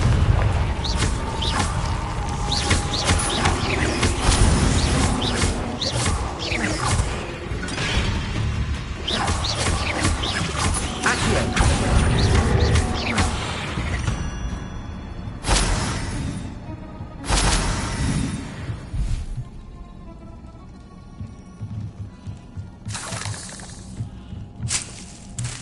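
Confringo blasting spells in the Hogwarts Legacy video game on PS5, a dense run of loud booming, crashing explosions with whooshes, continuous for about fifteen seconds and then bursting intermittently.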